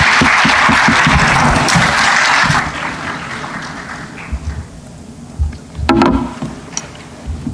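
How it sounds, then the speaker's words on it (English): An audience claps for conference panelists on stage, a dense, loud ovation for about two and a half seconds that thins into scattered, fading claps and a few last taps. "Another round of applause for our panelists this round"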